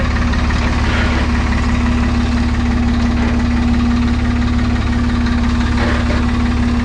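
A Hattat 240S tractor idles with a steady low, humming engine drone and faint knocking vibration while its brake is pressed, continuous and close throughout with no voices.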